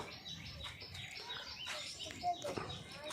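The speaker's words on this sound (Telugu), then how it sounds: "జామ చెట్టు మీదకి రెండు మూడు పిట్టలు వచ్చినాయి" Small birds settle into a guava tree, giving faint scattered chirps and calls while a person talks nearby.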